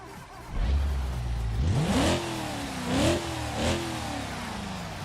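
A car engine in a racing game, set up with its standard exhaust, spools from a low rumble into a rising rev, then gives two more sharp throttle blips over a steady hum.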